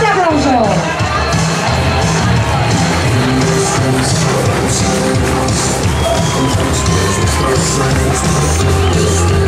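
A large crowd cheers, whoops and applauds loudly and continuously at the closing ceremony of the 2009 Vuelta Ciclista a Extremadura, a dense, sustained roar with scattered shouts.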